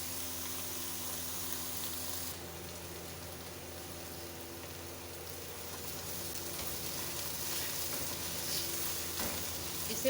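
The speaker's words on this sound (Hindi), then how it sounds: "इसे अभी और अच्छे से भूनेंगे हम।" Grated bottle gourd halwa roasting in a pan gives off a continuous soft sizzle and hiss, steady and close, with no talking.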